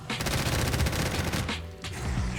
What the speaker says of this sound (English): Is that grenade gonna go off?